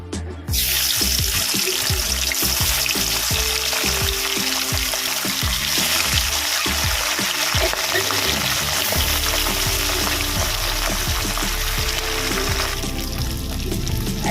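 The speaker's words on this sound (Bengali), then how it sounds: "তেলটা গরম হয়ে গেছে আমি মাছ ছেড়ে দেবো" Parshe fish frying in hot oil in a kadai, a wok-style pan, gives a loud, steady crackling sizzle that runs without a break for the whole stretch, with no talking.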